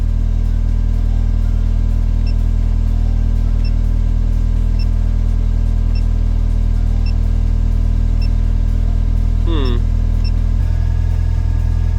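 A Honda K24 engine runs steadily at idle, a loud constant drone with a faint ticking pulse, then a brief electronic chirp and a slight change in tone near the end.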